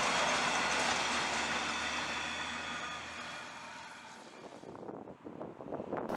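An empty cattle train bound for Winton in Queensland rumbles past loudly with a steady roar and faint wheel clatter, then fades away and leaves quieter outdoor sound.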